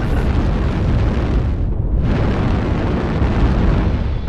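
Explosions roar continuously in MechWarrior Online as a destroyed target blows up, a loud, dense rumbling blast that fills the whole stretch with only a brief dip partway through, no voices heard.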